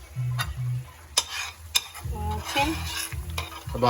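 South African crab curry cooking in a pot: soft sizzling and bubbling mixed with utensil stirring and scraping, a few sharp metallic clinks from a spoon against the pot, close and fairly quiet.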